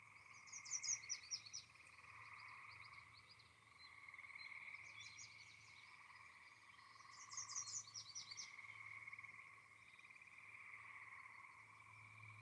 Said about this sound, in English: Oh yeah, the frogs are going crazy.